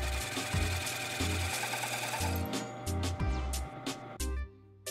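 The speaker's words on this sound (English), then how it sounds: "Using a fly cutter here to mark out the location and the depth of the Lexan insert for the inside of the top piece" Fly cutter cutting into Lexan to mark an insert recess for a bent PVC LED desk lamp: a quiet steady machine whir with regular thumping pulses as the cutter sweeps around.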